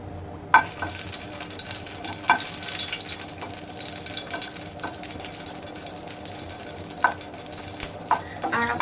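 Dried red chilies frying in a little ghee for a mung dal tempering, crackling in a steady sizzle broken by several sharp clinks and scrapes of stirring.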